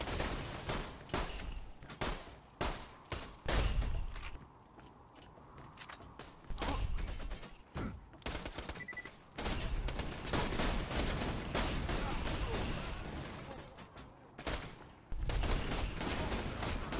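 Rapid gunfire in the video game Borderlands 2, dense bursts of shots loud and close with short gaps and mechanical clatter between volleys.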